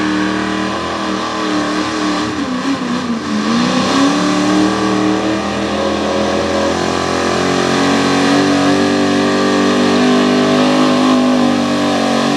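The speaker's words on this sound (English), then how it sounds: "The third truck puts up now, Ken Wazinski." A pro stock 4x4 truck at a Pennsylvania truck pull revs hard and loud up close, its engine note dipping and climbing before holding a sustained high roar, with no voices over it.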